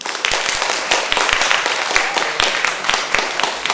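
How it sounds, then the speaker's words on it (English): A short burst of dense, energetic audience clapping for performers at a Key Club Vancouver Westside show, steady and close throughout. "Let's give all of our performers another round of applause."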